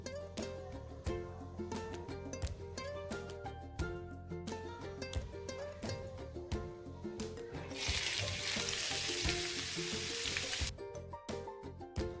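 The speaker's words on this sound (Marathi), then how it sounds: "आपल्याला कांदा आणि लसूण सोनेरी रंग येईपर्यंत परतून घ्यायचे आहे" Onion and four to five garlic cloves fry in a pan for chole masala, sizzling steadily under background music and swelling into a loud, hissing burst partway through before settling again.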